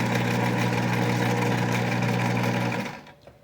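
A sewing machine runs steadily while stitching yarn onto fabric in a couching technique, a loud, even mechanical hum with a rapid rhythmic whir that stops abruptly near the end.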